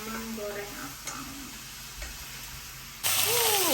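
Onions and bell pepper frying in a pan on a home stove while being stirred, a steady close sizzle with faint scraping that swells louder near the end.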